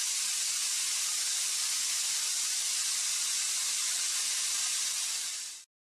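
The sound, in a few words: pressure cooker of dal and rice hissing steam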